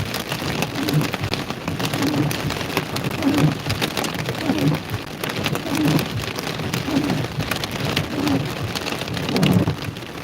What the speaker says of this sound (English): You can hear it hitting the windshield.